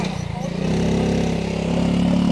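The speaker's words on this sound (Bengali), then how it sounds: "এই সিঁড়িতে কিন্তু এইভাবেই বাইক নিয়ে তারা উঠছে" A motorbike engine labours steadily while climbing a steep flight of stairs on the Parasnath hill route in Jharkhand, a close, continuous mid-pitched drone with slight revving changes throughout.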